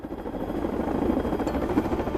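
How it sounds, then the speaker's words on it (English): Military helicopters arrive at Camp Pendleton, kicking up a dust storm. Their rotors make a steady, loud, pulsing thrum that fills the air without any talk. "A team of Hilo choppers greet us at Camp Pendleton with a man-made dust storm."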